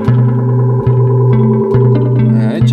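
An electric guitar runs through an echo delay pedal, sustained plucked notes repeating and trailing off in layered echoes, loud and close, with no speech.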